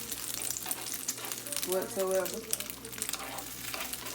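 Eggs sizzle and crackle on a hot griddle in a steady broad hiss, with a spatula scraping briefly near the middle and a voice speaking quietly over it.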